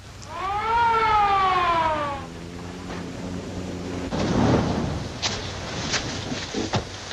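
A police car siren in a 1954 film noir wails up and falls away as it passes, loud at first then trailing off into quieter background roadside noise.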